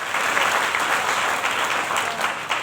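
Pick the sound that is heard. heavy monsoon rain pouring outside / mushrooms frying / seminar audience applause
seminar audience applause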